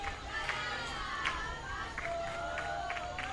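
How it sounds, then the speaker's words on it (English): Brazilian softball fans in the stands at a Senior League game against Georgetown, clapping and cheering from a distance: a faint, lively crowd murmur with scattered rhythmic claps and shouts, under a commentator's voice. "You can hear them right now clapping and cheering."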